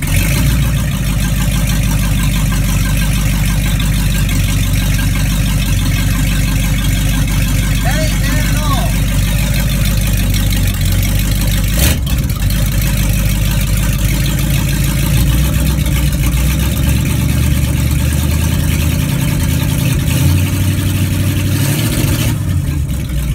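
A 1974 Ford F-350 truck engine with no exhaust idles steadily and close by, a continuous low rumble with a brief knock partway through and a slight change near the end.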